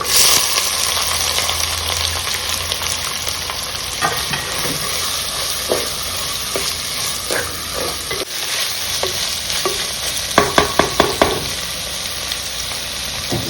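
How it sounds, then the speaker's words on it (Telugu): Steady sizzling as onions, garlic cloves and green chillies stir-fry in a pan, with scraping stirs and a quick burst of clattering spatula taps near the end; no talking. "ఉల్లిపాయలు వేసేస్తున్నానండి. వెల్లుల్లి గుళ్ళు, ఉల్లిపాయలు, పచ్చిమిరపకాయలు."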